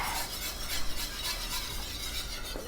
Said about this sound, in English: And we're going to stir that, let it cook until it's the desired thickness.